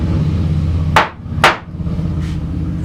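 A mallet strikes a one-inch number 7 carving gouge into wood twice in quick succession, sharp and close, followed by a fainter third tap.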